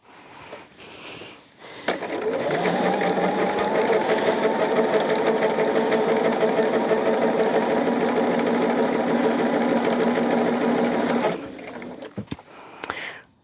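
A sewing machine stitches a quilt block in one long, steady run of fast, even mechanical clatter, close and loud, with short pauses and small handling sounds at the start and end.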